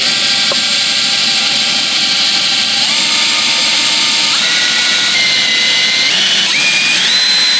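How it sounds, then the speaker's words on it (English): A power drill boring pilot holes into boat fiberglass for a trolling motor mount, a loud continuous high whine whose pitch climbs in steps as it works through the material, with no talk. "Now with the small pilot holes drill, we're going to start working up in size."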